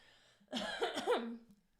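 A single close throat clearing, a short raspy rumbling cough-like sound lasting about a second in an otherwise quiet room.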